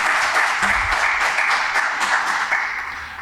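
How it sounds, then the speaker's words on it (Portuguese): Applause from the audience at a public hearing on health department accounts in a council chamber, steady and sustained clapping from many people for about three seconds that fades slightly at the end. "peço uma grande salva de palmas"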